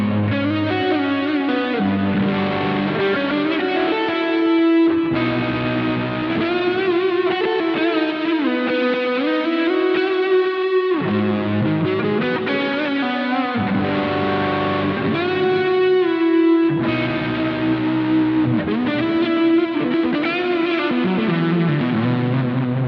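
Overdriven electric guitar through a BOSS SY-1000 amp modeller, a smooth, warm crunch playing chords and melodic lines continuously at steady loudness, no voices.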